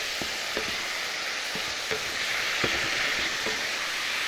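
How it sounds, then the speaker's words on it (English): Pumpkin cubes are stirred in soy sauce and sweet chili glaze in a pan, giving a constant close sizzle punctuated by regular light scraping taps from the utensil. "Then quickly stir it through."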